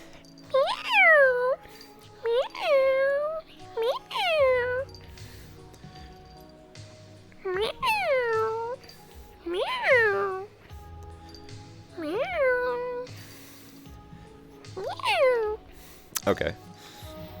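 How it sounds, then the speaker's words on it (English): A cat meows repeatedly indoors, about eight clear, drawn-out meows spaced a second or two apart, with soft background noise and a brief knock near the end. "Oh, we have a meow."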